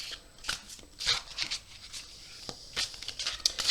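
Cards shuffled up close for a card reading, with soft irregular riffles and slaps, brushing paper sounds and light taps coming in uneven bursts.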